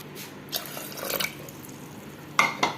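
Water splashes over cowpeas and raw rice in a pressure cooker for Kerala-style payasam: a few short, close splashes and drips separated by quiet gaps, with a louder pair near the end and no talk.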